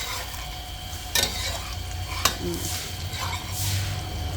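Eggs frying in pork lard in a home kitchen, a continuous crackling sizzle with two sharp utensil clicks against the pan and a soft scrape, moderately close.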